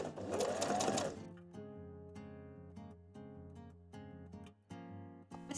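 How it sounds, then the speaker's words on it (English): A home sewing machine stitches around the edges of fabric letters pressed onto a party crown, running in short bursts with a steady mechanical needle rhythm. A rustle of handling comes before it, and there is no voice. "now I'm going to sew around the edges with my sewing machine"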